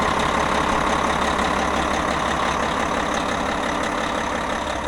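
A tractor engine idles steadily at an equipment auction, a dense, continuous low rumble with a mechanical chug that stays loud and even throughout, with no talk over it.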